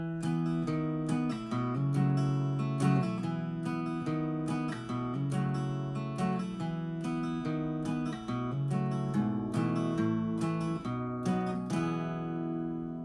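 A guitar plays the outro of a song, strummed and picked chords ringing out in a steady flowing pattern, close and clear with no talking.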